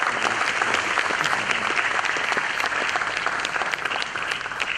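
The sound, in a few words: audience applause at a book launch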